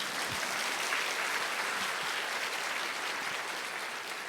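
A church congregation at a Korean Christian festival event claps loudly and steadily, a dense, sustained wall of applause from many hands filling the room throughout.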